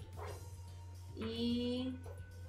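A dog in a video game gives a short bark and whimpering yips at moderate level, over a steady low electronic hum and background game sound.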